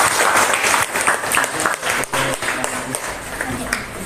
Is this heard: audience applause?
yes